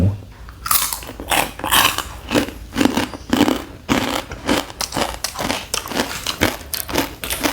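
Crunchy Thai pork rinds (khaep mu) eaten close up, with a steady run of loud, sharp crunching bites and chewing, roughly two or three crackly bites per second and no talking.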